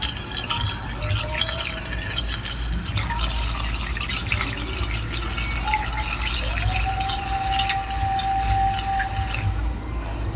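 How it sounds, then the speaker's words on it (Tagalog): Gasoline pouring into a small engine's tank after a fuel filter and fuel hose replacement, a steady liquid trickle and fill sound running throughout with a faint rising tone near the end, no talk. "so lagyan lang natin ng gasolina"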